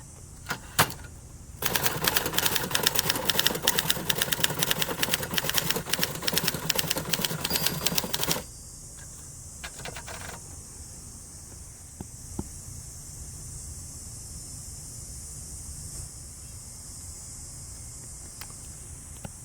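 Rapid, steady clacking of 1970s Adler Gabriele 25 manual typewriter keys outdoors in a dense burst for several seconds, followed by a few sparse, isolated clicks against quiet hiss.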